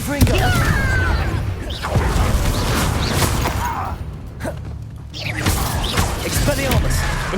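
Spell explosions from the Confringo fire curse crack and burst in Hogwarts Legacy combat, loud and repeated, mixed with whooshes, grunts and game effects under a dense battle soundscape.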